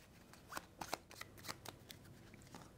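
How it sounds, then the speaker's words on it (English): A deck of 24 cards for the Dawn of Ulos board game is shuffled close up, giving quick papery riffles and soft clicks in an irregular rhythm at low volume. "24 cards again. Shuffling those."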